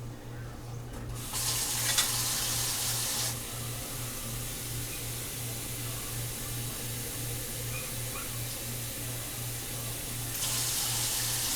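Tap water runs for filling a pot while canning green beans, a steady rushing hiss that starts, runs for a couple of seconds, eases off, then surges again near the end.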